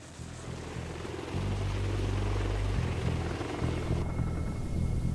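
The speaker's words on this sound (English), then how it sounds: "the CH-53E Super Stallion is used to carry a wide range of payload" A CH-53E Super Stallion, a three-engine heavy-lift military helicopter, flies with a steady low rotor thrum and engine whine that swells as it draws closer, heard at moderate distance.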